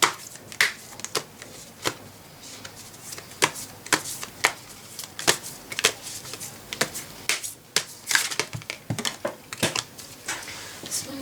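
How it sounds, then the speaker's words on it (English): Moonology Oracle cards are shuffled by hand in close, repeated bursts of crisp riffling and slapping, with uneven rhythm and brief pauses between the bursts. "So let's get started by shuffling these Moonology Oracle cards."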